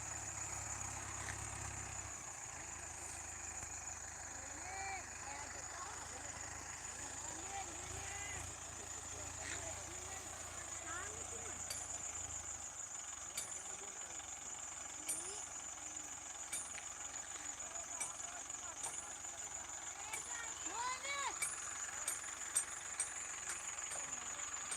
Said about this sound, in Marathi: हा ट्रॅक्टर काढायला चालू आहे आता